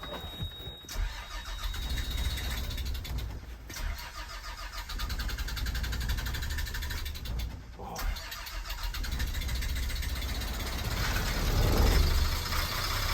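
An old RV engine cranks and catches, then runs steadily with a loud, rough mid-pitched rumble that holds and swells slightly toward the end, with a brief dropout partway through.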